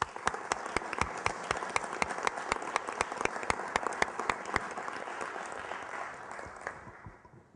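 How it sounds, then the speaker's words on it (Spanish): Audience applause at a notarial lecture event, dense steady clapping with a few sharp individual claps standing out, sustained for several seconds before tapering off at the end. "Un aplauso para nuestro ponente de hoy"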